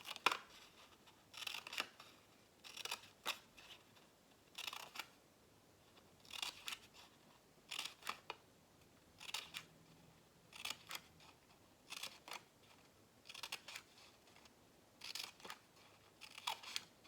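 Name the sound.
scissors cutting paper for a poppy craft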